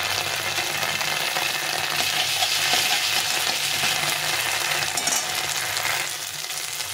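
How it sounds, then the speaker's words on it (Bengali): Spices frying in oil in a pan with fish and potato, a dense continuous sizzle with a stirring rasp, close and loud, easing slightly near the end, with no talking. "এখন এই মাছে একটু মশলা দিয়ে দেবো। এই মশলাটাকে একটু ভেজে নেব।"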